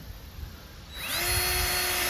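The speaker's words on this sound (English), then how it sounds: "drill the rest of the holes all the way up it." A power drill starts up partway through and runs steadily with a high whine over a low background rumble, close to the listener, drilling holes for a homemade poultry kill cone.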